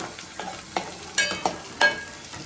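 Masala paste cooking in a pan for a fish curry, heard as a quiet background fry broken by several sharp spoon scrapes and clinks against the pan at an irregular pace, close by with no talking.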